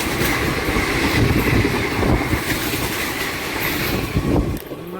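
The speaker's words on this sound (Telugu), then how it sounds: "ట్రిప్లో ఫస్ట్ క్రాసింగ్ పడిందండి 16362 వేలంకని ఎర్నాకుళం ఎక్స్ప్రెస్" The 16362 Velankanni–Ernakulam Express passes at a crossing, heard from aboard another train as a loud, close rush of wheels and rhythmic clatter that cuts off abruptly near the end.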